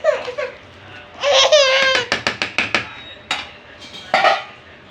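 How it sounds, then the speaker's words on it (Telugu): A pot lid comes off and cabbage manchurian is mixed in the pan, with a quick series of sharp metallic clinks and scrapes in close succession, while a voice chatters and laughs around it. "మూత పెట్టుకొని కొద్దిసేపు ఉంచుకున్న తర్వాత తీసి కలుపుకోవాలి."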